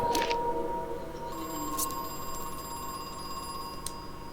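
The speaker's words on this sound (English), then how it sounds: "I hear a phone, but I don't see..." Telephone ringing in the video game Crow Country, a faint electronic ring with steady tones over quiet ambience, broken by a few brief bright bursts.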